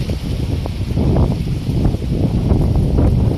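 Strong autumn wind blows hard outdoors near trees, a loud, unbroken rushing roar with buffeting gusts that rise and fall slightly, heavy wind noise on the microphone throughout.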